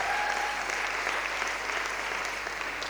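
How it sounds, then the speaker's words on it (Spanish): Steady, dense applause from a church congregation during a sermon fills the whole stretch, loud and continuous without pauses. "Dale ese aplauso, dale ese aplauso."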